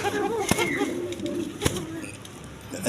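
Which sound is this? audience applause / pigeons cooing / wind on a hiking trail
pigeons cooing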